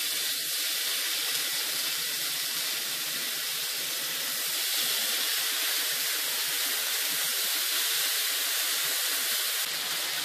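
Bacon frying in a large skillet, a steady, dense sizzling hiss that runs continuously and fairly loud throughout, with no talking.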